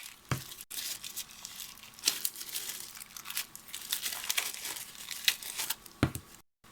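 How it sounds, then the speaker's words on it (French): Stamperia paste jars are unpacked from crinkly packaging, with close, continuous crumpling and tearing of plastic and paper, with a few sharp snaps and brief pauses. "je vais les déballer"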